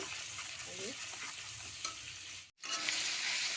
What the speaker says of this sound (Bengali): মশলাটাকে কষে নেব।